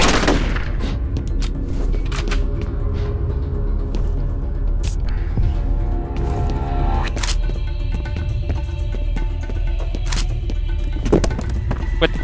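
Enemy shotgun blasts in the F.E.A.R. video game, a chaotic run of loud, sharp bangs spread over about twelve seconds, several sharp peaks standing out above dense battle noise with no talking.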